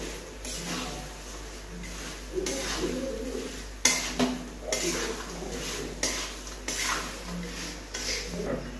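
Dry chivda mixture is stirred and tossed in a hot pan with the gas switched off, giving a continuous rustling scrape with rhythmic clinks of the spoon against the pan, close and moderately loud.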